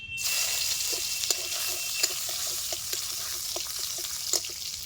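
Chopped garlic sizzles in hot mustard oil with a steady, bright crackle, punctuated by a few sharper pops and spits, close and continuous with no talking.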